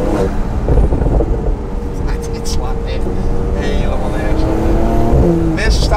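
A Stage 2 Porsche 911 Turbo fitted with an Akrapovic exhaust accelerates hard, its engine note loud and close and rising steadily through a sustained pull, with someone talking over the roar.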